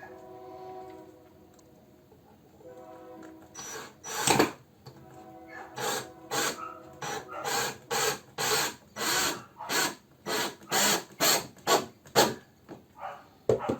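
A power drill drives a screw into wood in a woodworking shop building a spice niche, a steady series of about a dozen sharp, rhythmic pulsing bursts close by, with no talk over them.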